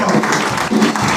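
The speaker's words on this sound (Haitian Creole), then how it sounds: "Sur vos applaudissements, s'il vous plaît." A church audience claps loudly and steadily at a celebration with a choir, a dense close burst of applause.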